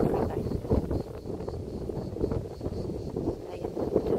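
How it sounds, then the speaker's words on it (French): Strong wind blowing outdoors, a steady low rumbling buffet across the whole stretch with gusty swells, loud and close as if striking the microphone. "Là, il y a beaucoup de vent."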